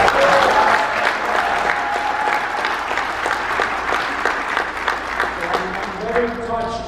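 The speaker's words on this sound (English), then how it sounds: "With the warm applause" Warm, sustained applause from an audience at an Asian American awards ceremony, full and steady before tapering near the end as a voice begins speaking.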